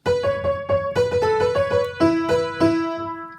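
A solo piano plays the opening phrase of a song, a run of about ten notes at a moderate steady pace over a low sustained bass, close and clear with no talking.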